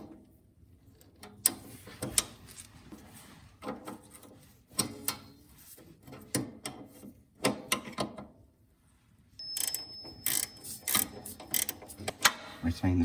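A nut is worked tight on a cable clamp of a Belle BMD300 mini dumper, heard as close, irregular bursts of metallic ratcheting clicks and spanner clatter separated by brief pauses.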